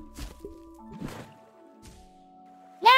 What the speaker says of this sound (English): it fell in the poop water anyway